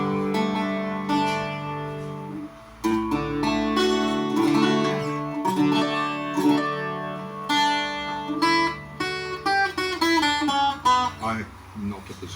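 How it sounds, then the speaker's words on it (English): An Irish bouzouki built from reclaimed wood with handmade maple bindings is played close up as a simple test piece. It opens with sparse plucked notes, then moves into a denser passage of ringing strummed chords and quick picked runs. "I'm not a Bouzouki player, as you can tell, so I play my one and only test piece."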